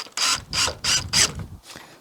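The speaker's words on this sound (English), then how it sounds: "So let's go ahead and screw that in." A screw being driven into a plastic headlamp housing on a 2014-2019 Lexus GX460, heard as four close, loud ratcheting bursts in a steady rhythm, followed by a softer fifth burst.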